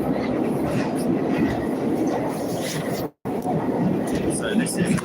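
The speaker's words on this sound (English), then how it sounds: "So this is Russian train." A Moscow metro train rumbles along at steady speed with a constant roar and faint rattling, broken by a brief dropout, while voices murmur underneath.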